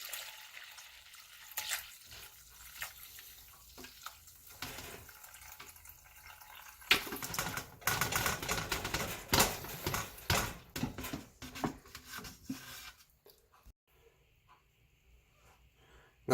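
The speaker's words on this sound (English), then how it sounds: "I'm going to start by straining it off the big pieces" Simmered chicken stock being poured through a strainer to catch the big pieces, a soft patter and trickle of liquid that swells into a fuller pour midway, then fades to quiet drips.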